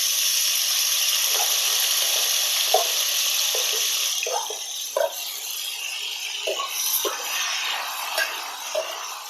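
Onions, green chilies and curry leaves fry in a hot oil tempering for a tomato curry, a steady bright sizzle that softens midway, broken by occasional stirring scrapes and taps, close and alone.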